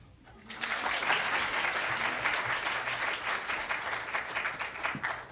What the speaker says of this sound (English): This year, yes, applause.